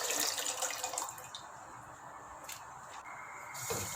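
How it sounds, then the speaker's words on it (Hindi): Water, one litre poured into a cooking pot to make sugar syrup, splashes and trickles faintly at close range for a few seconds, quieter toward the end, with no voices. "शीरे के लिए मैं देगची में 1 लीटर पानी ऐड करूँगी"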